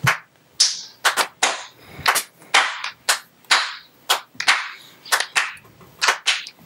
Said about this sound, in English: that deserved a slow clap